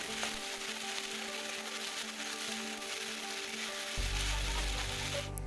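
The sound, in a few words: potatoes frying in oil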